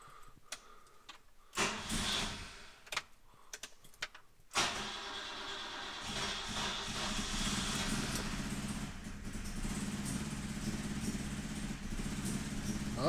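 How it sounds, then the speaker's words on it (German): A BMW E12 525 classic car engine is cranked and catches after a few clicks and short bursts, then settles into a steady, slightly uneven idle heard close by with no talking. "Beziehungsweise wir starten einmal den Motor dafür."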